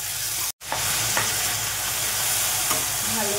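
A cooking mixture seasoned with salt and a little sugar being stirred in a hot pan, loud continuous sizzling with scraping spoon strokes, broken by one very brief dropout near the start.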